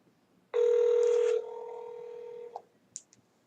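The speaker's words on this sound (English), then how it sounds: "I'm going to let it ring a few more rings." A steady, loud ringback tone on an outgoing telephone call sounds for about two seconds, dropping slightly in level partway through, followed by a couple of faint clicks and silence.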